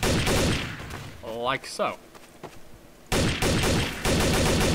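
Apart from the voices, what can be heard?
unsuppressed gunshots in video game Counter-Strike: Source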